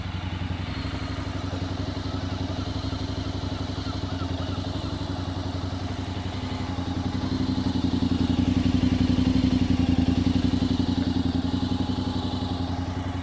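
A Honda NC750X fitted with a Delkevic 340mm exhaust idles steadily while warming up, a close, even low rumble that swells slightly louder partway through, with no speech.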